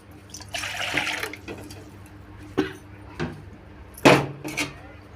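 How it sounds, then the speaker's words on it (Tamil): Tamarind water splashes into a pot of kara kuzhambu with bitter gourd, a close pouring burst followed by a few sharp drips and splashes over a faint background hum. "புளி தண்ணி ஊற்றிட்டேன்."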